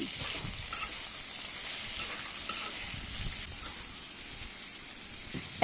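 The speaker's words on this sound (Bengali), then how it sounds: "দিয়ে দিচ্ছি একটা মাঝারি সাইজের টমেটো কুচি একটু নেড়ে নিচ্ছি" Ginger paste, salt and a chopped medium tomato fry in a pan for a Bengali ridge gourd and mourala fish curry, giving a steady soft sizzle with faint stirring scrapes and no talk.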